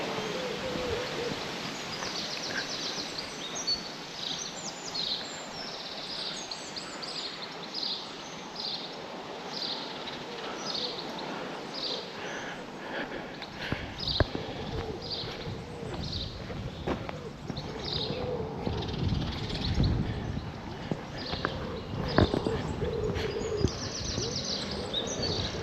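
Morning birdsong outdoors in Gainsborough, a town on the Trent, with repeated chirps and calls over steady wind noise and a soft low hoot, some scraping or footstep sounds nearer in the second half.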